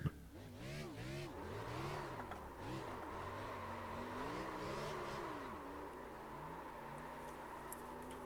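A NASCAR Xfinity Series Chevy Camaro engine at Nashville Superspeedway, heard after pulling off the racing line and slowing, with pitch rising and falling through gear changes before it settles into a steady drone.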